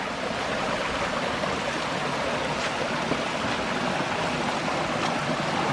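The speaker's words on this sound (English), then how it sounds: "the Cascade of St. Francis, which just is the most wonderful deep throaty sound" Water cascading over the rock ledges of Flat Rock Creek at the St. Francis cascade, a steady, full, deep rushing roar that holds constant throughout, close and loud with no voices.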